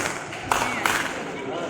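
Two sharp hand claps inside Golconda Fort in Hyderabad, about a third of a second apart, each followed by a brief reverberant tail over steady background noise and murmuring.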